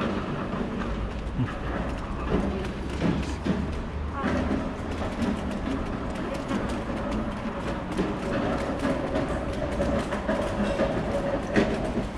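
An ÖBB Railjet train at a station in Vienna gives a steady, loud rumble with rail clatter and rolling noise throughout, mixed with busy station ambience and faint voices.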